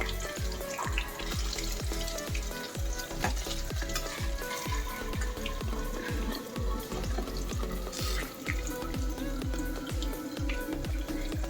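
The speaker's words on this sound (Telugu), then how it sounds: "చూడండి చక్కగా ఎర్రగా ఎలా కాలుతున్నాయో" Dosa batter ponganalu frying in a hot pan give a steady, loud sizzle with a regular thumping rhythm of stirring or turning strokes throughout, no voices.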